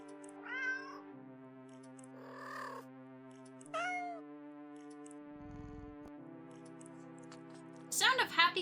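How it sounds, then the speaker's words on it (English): Happy video game cats munch on fish: several short meows and small chewing clicks over sustained electronic tones, with a louder burst of cat sounds near the end. "The sound of happy cats munching away at their fish fills your ears."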